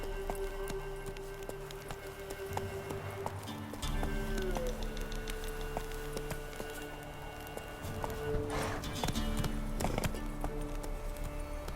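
Roach the horse's hooves in The Witcher 3 clip-clop steadily along at pace, a continuous rhythmic patter beneath a sustained tonal music bed.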